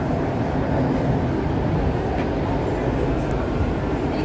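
A Mumbai Metro train running, heard from on board as a loud, continuous rumble and rolling rail noise with no breaks.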